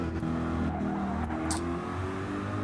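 A Corvette GR3 race car in Gran Turismo at Dragon Trail Gardens gives off a continuous engine drone with steady tonal harmonics, mid-distance and moderately loud, with no talk over it.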